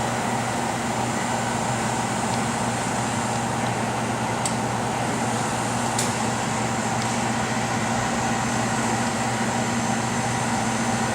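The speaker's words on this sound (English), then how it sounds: "I'm using nitrogen to purge the chamber, and the purge pressure can be adjusted using the needle valve on the front." Steady broadband hiss of nitrogen gas purging the chamber of a Plasma-Therm System VII Batchtop RIE etcher, adjusted by a needle valve, with a constant low machine hum beneath and a couple of faint clicks, unbroken throughout.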